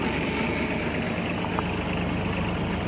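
A Yanmar KE-50 tractor runs with its rotary tiller engaged in second gear, giving a steady, even mechanical drone that holds at a constant level throughout, with no voices.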